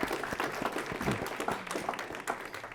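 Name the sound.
school board audience applauding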